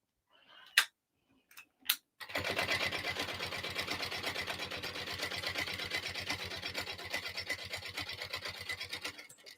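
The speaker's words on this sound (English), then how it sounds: "I'm going to baste this in place" A sewing machine basting fabric for a tote bag starts after a few soft handling clicks, then runs in a fast, even, close mechanical rattle for several seconds before stopping.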